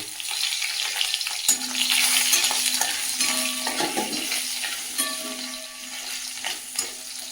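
Two bay leaves dropped into hot oil in a home kitchen pan, the start of an aloo paneer dish, set off a bright, steady sizzle with a few faint utensil clinks, close and without talk.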